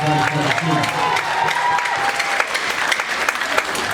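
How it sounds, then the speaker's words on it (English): Loud sustained applause and cheering from a graduation audience for the class of 2022 at a luau, dense clapping with scattered shouts and voices mixed in. "Give another big round of applause for the class of"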